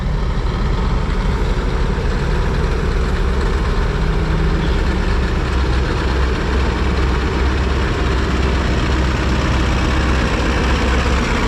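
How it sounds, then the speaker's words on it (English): A big-horsepower Rome 475 plow tractor engine runs steadily nearby during an equipment swap at a plowing event, a loud, continuous low rumble that holds level throughout with no voices. "Nothing like taking a big horsepower tractor off to put a big horsepower tractor back on."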